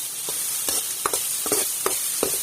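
Chutney being stirred in sizzling coconut oil for papaya pachadi, a steady frying hiss broken by several distinct spoon scrapes against the pan at an uneven rhythm.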